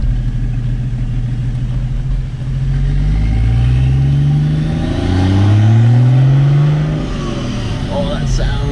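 Engine of a 1983 Volvo 760 turbodiesel mounted in a 7 Series chassis revving up and down in several smooth, loud low swells, close by, with people talking over it.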